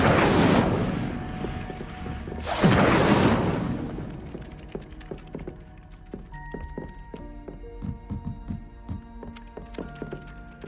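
A fire spell is cast in a video game, starting with two loud, roaring bursts of flame in quick succession. Scattered chiming and tinkling effect tones follow and fade out as the magic settles.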